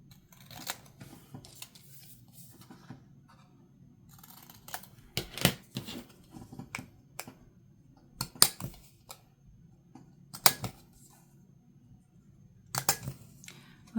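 Scissors snip through small paper tags for a handmade zine, a string of quiet, close, crisp cuts arriving in short irregular bursts with brief pauses, and no one talking.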